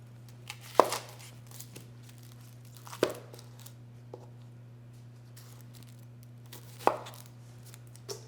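An onion being diced with a new custom knife on a cutting board, three distinct sharp chops spaced a few seconds apart with light crinkly slicing taps between, close and fairly quiet over a low hum.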